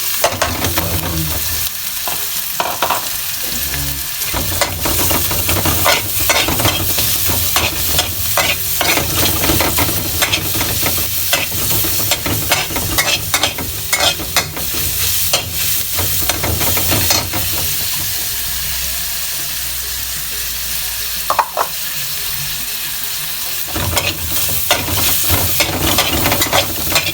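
Garlic sautéing in a pan for ginisang upo, a steady loud sizzle and frying hiss with repeated scraping stirs throughout, no talking.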